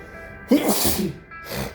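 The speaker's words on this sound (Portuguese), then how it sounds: "Desculpa, acabei de espirrar aqui." One close, forceful sneeze from a person who has the flu, with a short breathy trail afterward and a second, fainter rush of breath.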